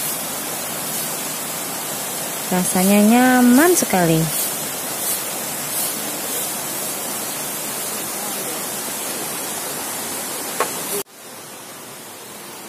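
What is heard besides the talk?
river water flowing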